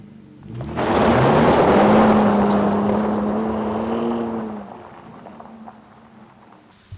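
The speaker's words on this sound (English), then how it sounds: "we're going to see how much wheel spin we generate using advanced traction sport" A Ford F-150 pickup accelerates hard in advanced traction sport mode with wheel spin, its engine rising to a loud, sustained roar with a climbing tone that fades after a few seconds.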